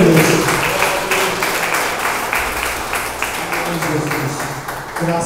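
A church congregation applauds together, a steady, dense wash of clapping that carries evenly through the whole stretch with voices mixed underneath.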